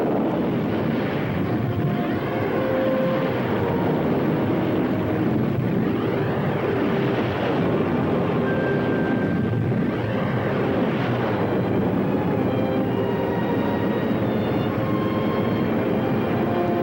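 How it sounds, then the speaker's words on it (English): Aircraft engines at full power roar in a loud, unbroken drone that swells and shifts in pitch, heard alone without voices, from a 1960 science-fiction film set in outer space. "Engines at maximum speed."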